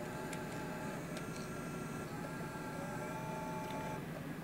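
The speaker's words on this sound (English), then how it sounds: "The noise you're hearing right now, or you just heard, are the SCSI hard drives turning on." SCSI hard drives spinning up as a quiet high-performance PC boots, a faint steady whine and hum with a few soft ticks and clicks, close and low in level.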